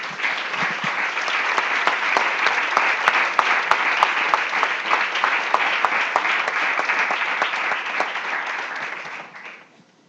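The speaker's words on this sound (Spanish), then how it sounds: "denle un palmas fuertes al Señor" A church congregation claps loudly and steadily for a long stretch, with crisp individual hand claps popping above the dense roar, before the applause cuts off abruptly near the end.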